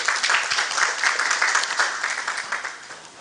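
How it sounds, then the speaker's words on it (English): An audience at a cyber security knowledge forum applauds the keynote speaker, a dense, steady round of clapping that holds strongly before gradually tapering off toward the end. "A round of applause for him."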